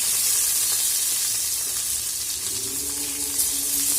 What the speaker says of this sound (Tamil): இந்த வெங்காயத்தை நல்லா வதக்கி எடுத்துக்கலாம்.